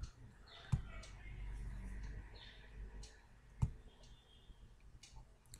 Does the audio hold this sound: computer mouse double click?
yes